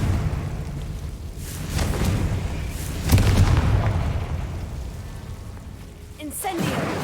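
A blasting spell explosion in a Hogwarts video game, booming low rumbles that swell around the middle and fade, heard within dense game ambience alongside spoken voices.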